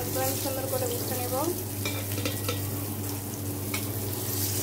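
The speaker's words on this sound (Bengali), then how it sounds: "এখন এই মাছগুলো আমি সুন্দর করে ভেজে নেব।" Fish frying in a pan gives a steady close sizzle with stirring noise, and a low hum sits beneath it throughout.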